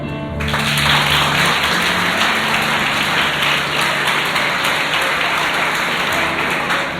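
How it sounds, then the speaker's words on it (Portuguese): A church congregation breaks into loud, sustained applause after a sermon, a dense wash of many hands clapping steadily and filling the room for several seconds. "Pode aplaudir."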